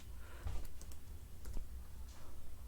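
Quiet, close keystrokes on a computer keyboard while entering a text command in AutoCAD 2024, a few scattered taps and clicks at an unhurried pace.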